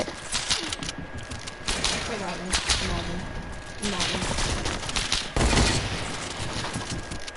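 Rapid bursts of gunfire crackle through a shooter video game, sharp repeated shots clustered in volleys while people talk over the action.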